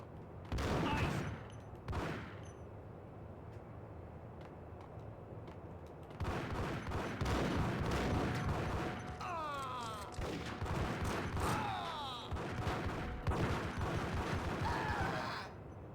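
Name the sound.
heavy gunfire in the Max Payne video game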